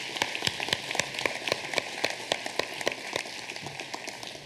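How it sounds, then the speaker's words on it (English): Applause from the audience at a 2014 convocation, a steady patter of many hands clapping together at moderate volume with no talk over it. "I think you all deserve a round of applause"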